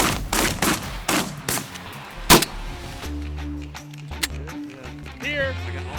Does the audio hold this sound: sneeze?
no